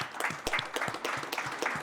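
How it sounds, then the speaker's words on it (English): Applause from an audience at a library hip hop writing event comes in as brief, fairly quiet scattered clapping with a few sharper claps standing out. "So give yourselves a round of applause."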